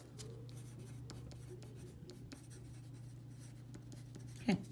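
Colored pencil scratches lightly and continuously across paper close by in a quiet room, with a low hum underneath and one brief louder sound near the end.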